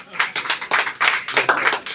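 An audience claps at a club gathering, producing a dense, steady patter of hand claps that runs for the whole two seconds at close range.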